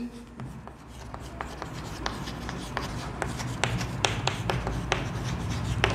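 Chalk or marker taps and scratches on a board as a summary chart is written during a solid-state chemistry lesson, with steady close strokes over a low room hum.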